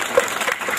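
Dense, steady clapping from a crowd at an outdoor police public-safety campaign event on Samosir fills the moment, a continuous crackling patter without pauses, fairly loud and close.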